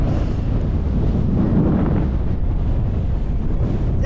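Strong, steady wind buffets the microphone on the summit of Gowbarrow Fell in the Lake District, a loud continuous rumbling roar with no letup.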